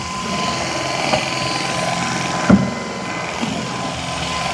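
A Shark PowerPro Flex Pet cordless vacuum runs with a steady, close whirring motor drone and one brief click partway through, with no speech.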